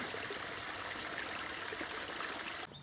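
A river runs steadily beside a plank bridge on a countryside circular walk near Robertsbridge, a close, continuous rushing and trickling flow that cuts off abruptly at the end.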